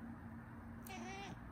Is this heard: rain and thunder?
no